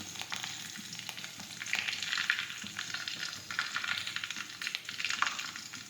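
Curry leaves sizzle in hot oil along with mustard seeds, cumin and crushed garlic, a close, continuous crackling fry with bursts of sharper pops throughout.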